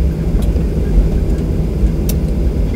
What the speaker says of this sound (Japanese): 離陸いたします。